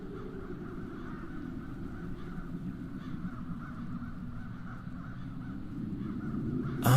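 Crows caw in the fantasy video game The Dark Eye, repeated harsh calls sitting faintly over a low ambient drone, with a sharp sound bursting in at the very end.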